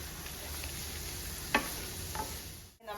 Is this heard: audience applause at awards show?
no